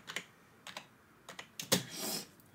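Several quick bursts of keystrokes on a computer keyboard, close and fairly quiet, with short pauses between clusters, as a search term is typed.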